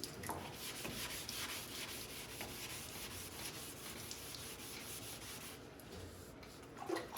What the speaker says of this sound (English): I'm also going to be wet sanding the door jambs up to 600 grit.